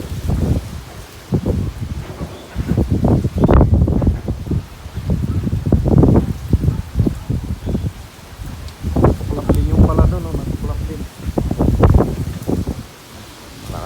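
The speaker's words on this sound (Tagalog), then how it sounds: "Lakas oh, ang hangin." Gusty typhoon wind from Typhoon Ulysses in the Philippines roars and buffets the microphone, with leaves rustling in waves that rise and fall throughout.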